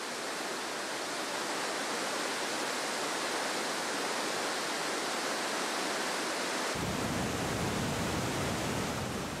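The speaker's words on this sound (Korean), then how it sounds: "압도적인 폭포 소리." A huge waterfall on the Brazilian side of a wide lava-plateau falls about 70 m high gives a steady, dense roar, loud and unbroken throughout, deepening in the low end near the close.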